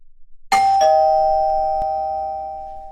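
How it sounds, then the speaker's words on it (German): A doorbell strikes once, then its clear chime tone rings on and slowly fades over a couple of seconds in an otherwise quiet room. "Wer klingelt denn da?"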